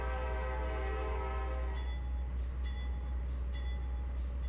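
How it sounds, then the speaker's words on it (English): Amtrak P42 diesel locomotive horn in Trainz Simulator 3, one long sustained chord blasting loud and close, then cutting off to leave the steady low engine rumble. "I guess we'll blow the horn as well."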